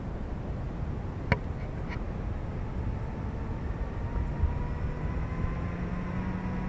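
An Eachine E120s RC helicopter's rotor spools up in a steady whirring rush, a faint whine slowly climbing in pitch, with a single sharp click early on.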